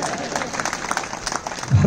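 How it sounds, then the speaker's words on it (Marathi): An audience at a Marathi poetry gathering breaks into a brief round of applause, clapping filling the hall for under two seconds as a voice speaks over it. "तुमचे किमान आता तरी टाळ्या वाजवा."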